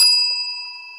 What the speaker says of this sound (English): This is a hotel bell.